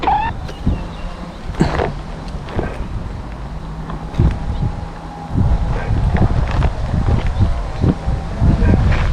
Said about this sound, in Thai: ประเด็นคือลมแรงซะด้วย